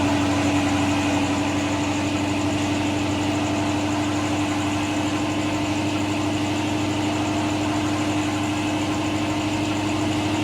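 A Hino 500 truck diesel engine with a stock factory setup idles steadily and loudly up close, a constant low rumble with a faint rhythmic knock, and nobody talks.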